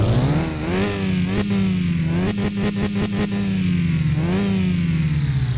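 A loud car engine in Car Mechanic Simulator 2021 drones and rises in pitch as it revs while stationary, with a brief rattling clatter midway, steady and close throughout.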